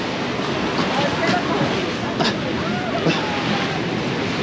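Seawater surges and washes close along the shore at Cartagena, a continuous loud hiss of surf with gusty wind buffeting the microphone throughout.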